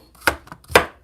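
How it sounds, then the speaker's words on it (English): A knife cuts through cucumber into slices on a board, two crisp chops about half a second apart with a lighter tap between, close and clear with no talk. "go ahead and cut the cucumbers into slices"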